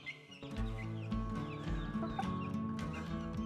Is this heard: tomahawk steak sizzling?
no